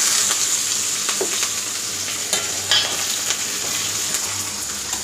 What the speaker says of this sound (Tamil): இப்போ பொடியாக நறுக்கி வச்ச வெங்காயம் எல்லாத்தையும் போட்டுக்கலாம்.